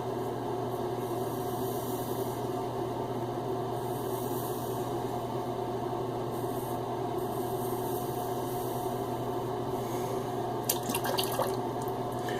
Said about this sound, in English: I think I'm going to go heavy on the water.